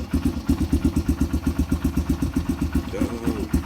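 A Honda CRF125 supermoto motorcycle, choke on and engine cold, idles just after starting with a close, steady, rhythmic low putter, while someone speaks briefly near the end.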